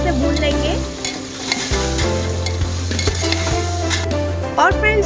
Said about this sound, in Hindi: अब अच्छा से हम सारे मसालों को अच्छे से भून लेंगे।